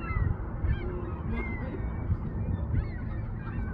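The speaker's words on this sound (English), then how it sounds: "I can hear the birds." Geese honking from a flock overhead during a total solar eclipse at a Walmart Supercenter parking lot, a steady chorus of overlapping calls over rumbling wind and background noise, with no talk.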